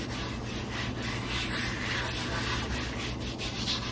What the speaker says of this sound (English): Gonna rub it in because I'll be picking up a lot of this flour along the way.